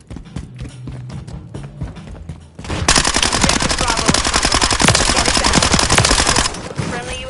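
Dense rapid automatic gunfire erupts after a quieter stretch of scattered shots and footsteps, loud and continuous for several seconds in a Modern Warfare 3 multiplayer match before easing off.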